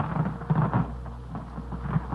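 Thunder from a nighttime lightning storm rolls as a low, muffled rumble with rain noise mixed in, steady and moderately loud across the whole short stretch.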